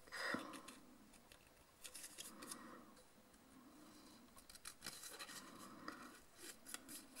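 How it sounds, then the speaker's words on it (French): Quiet snipping of scissors through paper for a handmade birthday card, several soft cuts in irregular bursts with faint rustling between them, close by and fairly gentle. "il suffit juste d'avoir une paire de ciseaux"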